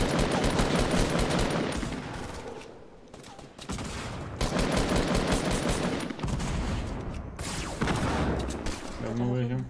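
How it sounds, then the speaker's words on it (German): Rapid bursts of automatic gunfire in the Fortnite battle royale game, loud dense volleys with brief gaps between them, with a person talking over the shooting. "Oh, der Schuss."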